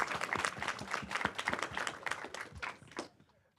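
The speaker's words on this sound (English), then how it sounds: "everyone give Dr. Victor and our Dem Lab Mason ambassadors a round of applause" Audience applause after an election debrief panel honoring a guest speaker and student ambassadors: dense, steady clapping from a sizable crowd for about three seconds, then fading quickly to near silence.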